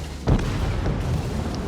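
A battleship's gun salvo in World of Warships, aboard the Izmail, a single deep boom followed by a low rumbling tail under steady background ambience, with no talk.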